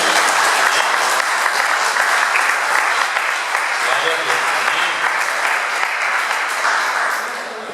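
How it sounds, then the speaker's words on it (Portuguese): Congregation applause during a church service after a sermon, a loud, sustained crowd clapping that fills the room evenly, tapering slightly near the end. "Dá uma linda salva de palmas para o Senhor"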